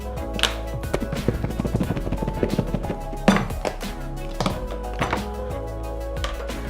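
Breaded chicken strips shaken in a closed box of crispy coating mix, a busy run of rattling knocks and thuds of the pieces and box, close and fairly loud throughout.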